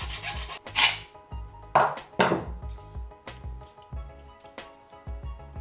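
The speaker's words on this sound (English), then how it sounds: "And I'll use my hacksaw to cut it." A hacksaw cuts a metal LED housing for a 2025 Honda Civic Mk8 upgrade, giving a quiet run of short, uneven rasping strokes with a few sharper scrapes, close by and with no voices.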